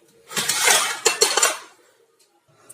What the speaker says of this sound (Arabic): فضيته كده في الصينيه